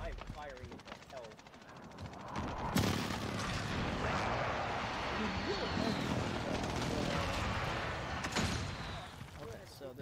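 Gunfire and explosive booms in the online shooter Modern Warfare, a dense continuous barrage of shots and blasts over a rumbling battlefield, with players talking excitedly over the din.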